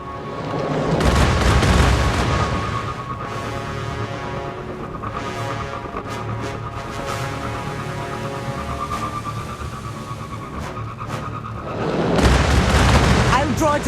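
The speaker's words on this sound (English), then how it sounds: "A Goliath tank. Watch out for its cannon." Heavy booming cannon fire from a Cabal Goliath tank in the Destiny: Rising video game, with loud broadband blasts at the start and near the end over a sustained rumbling battle soundscape.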